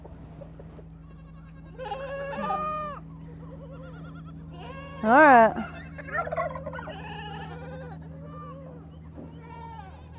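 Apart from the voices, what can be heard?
goats bleating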